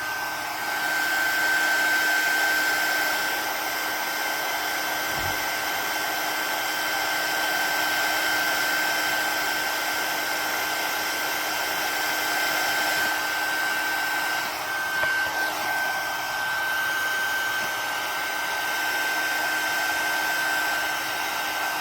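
A heat gun blows a steady, loud whooshing roar with a faint high whine as it shrinks heat shrink tubing over an RC speed controller on an Element Enduro12, running unbroken throughout with a few small handling clicks.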